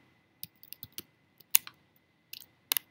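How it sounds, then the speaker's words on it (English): Keys tap on a Mac computer keyboard in short irregular bursts, a few quiet, close clicks separated by pauses while commands are entered. "So here I can type in commands like move forward."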